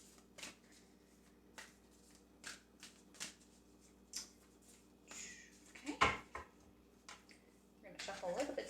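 Tarot cards being shuffled by hand, a series of soft, quick riffling and tapping bursts spread through the quiet, with a louder snap partway through and a busier flurry at the end.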